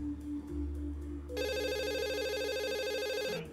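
A telephone rings in the adventure game Dog Mendonça & Pizzaboy, a bright electronic trill that starts after a short low hum and rings steadily and loudly for about two seconds before cutting off.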